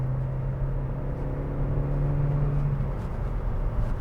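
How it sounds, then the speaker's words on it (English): A Vauxhall ADAM 1.4i VVT 16v petrol hatchback engine pulls through the gears from inside the cabin, with a low steady drone and a tone that climbs and then drops at a gearchange, with road rumble beneath. "I was in the wrong gear then when I was accelerating, but nice and smooth"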